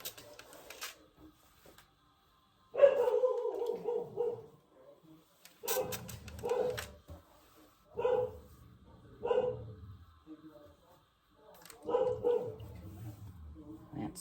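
A deaf, half-blind pet dog barks indoors in short bursts of one to three barks separated by pauses, fairly close and clear against a quiet room.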